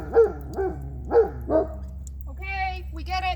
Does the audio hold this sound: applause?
no